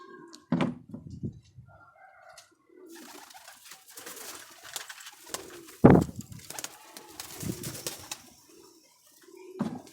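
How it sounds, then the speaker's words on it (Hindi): Pet pigeons give intermittent low coos close by, broken by a sharp thunk and scattered rustling and wing shuffles, with quieter stretches between calls. "ये कबूतर है जी"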